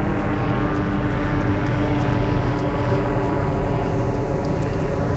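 A helicopter hovering overhead at night during a street protest, a continuous loud rotor and engine drone holding steady throughout with no talk.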